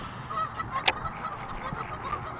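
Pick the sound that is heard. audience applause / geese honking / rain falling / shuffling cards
geese honking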